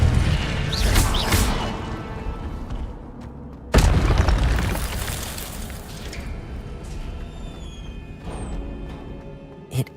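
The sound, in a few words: Incendio fire spell explosion in video game Hogwarts Legacy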